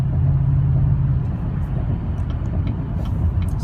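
A Sierra's engine drones steadily in fifth gear above 2,000 RPM, a loud, close, even rumble from inside the cabin with faint clicks above it and no talking.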